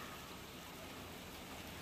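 Rain beginning to fall outdoors, a dense, steady hiss of drops at low level with no voices.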